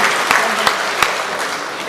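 Audience applause at an Inverex Power Wall supercapacitor product presentation, a steady wash of clapping with a few sharper individual claps standing out over two seconds.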